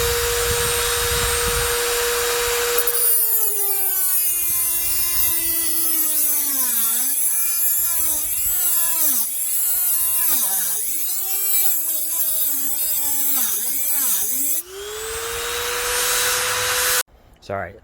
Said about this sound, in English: you just got to be patient with the Dremel tool. I mean, it can cut through metal